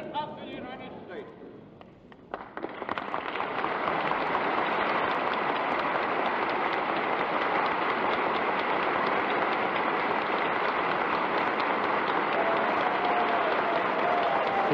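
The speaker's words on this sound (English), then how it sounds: "To cheers and applause from both sides of the aisle, President Dwight Eisenhower is coming down" Cheers and applause fill the House chamber as a President walks down the middle aisle at a State of the Union address, starting with scattered claps and voices, then swelling into sustained, dense applause that holds loud to the end.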